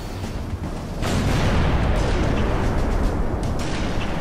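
Gunfire aimed at an anti-air battery in Halo 3, a sudden heavy rumbling blast that swells and sustains as a loud, dense roar, with faint talk.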